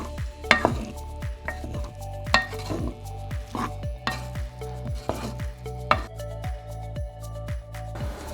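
A utensil stirs flour roux in a pan as it cooks toward golden, with a steady series of close scraping and tapping strokes against the metal over a soft sizzle.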